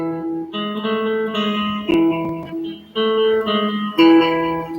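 A series of single guitar notes plucked one at a time on the sixth string in a slow, steady melody, ringing clearly with no voices.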